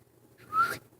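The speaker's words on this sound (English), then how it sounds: "Celeste whistled." A woman gives a single short whistle, a rising tone that swells briefly in the middle and then stops, heard alone against near silence.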